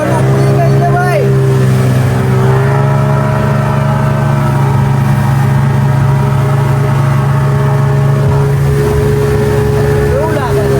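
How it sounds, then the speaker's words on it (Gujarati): A motorboat's engine drones steadily as the boat pulls away near Monkey Beach in Thailand, a loud, close, humming tone with voices talking over it. "બોટ ઉપડી ગઈ છે ભાઈ."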